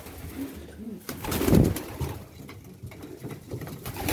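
Pigeons coo softly inside a white dove loft, low murmuring calls repeating at a moderate distance, with a louder burst in the middle and faint rustling around them.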